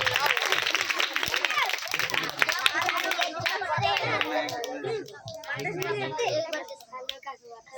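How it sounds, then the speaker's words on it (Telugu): Children at a Bible school Christmas celebration clap their hands in a sustained, lively patter that thins toward the end, with children's voices and chatter mixed in throughout. "క్లాప్స్ కొట్టండి రా."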